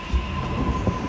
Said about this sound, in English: Oh, there's a train from there.